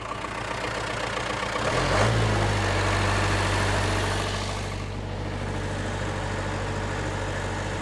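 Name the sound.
rebuilt Cummins diesel engine of a Case 1840 skid steer idling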